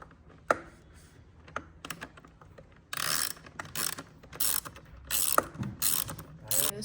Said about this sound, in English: we found it way easier to use an 8mm socket wrench